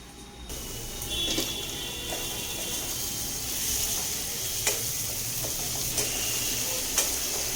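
Spice masala for street-style pav bhaji sizzles steadily in a pan while it is stir-fried. A few scraping, clicking strokes from the spatula stand out from the constant frying hiss.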